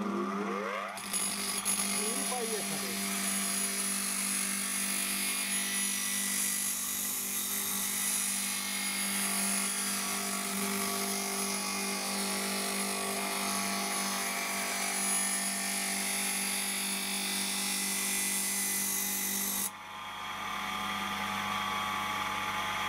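Tailor's scissors are sharpened on an ordinary bench grinder: a steady, loud, high grinding whine with a low motor hum underneath that runs continuously and then drops off abruptly near the end.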